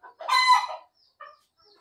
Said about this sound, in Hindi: देख लीजिए ये सब मुर्गी है।